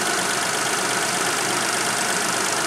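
A 1997 Geo Metro engine with 156K miles idling shortly after a cold start, a steady close and fairly loud running hum with no pauses or voices.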